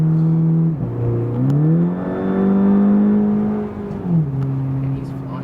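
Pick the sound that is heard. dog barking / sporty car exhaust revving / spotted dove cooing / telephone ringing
sporty car exhaust revving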